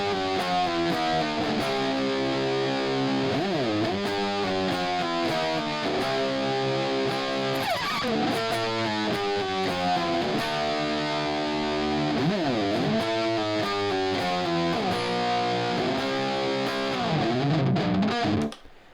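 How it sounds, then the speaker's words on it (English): Harsh, nasty gating distortion from an Ox Stomp guitar pedal, sustained chords and notes chopping in and out for a long stretch before stopping abruptly at the end. "you're starting to get that kind of really, really nasty kind of, almost gating distortion."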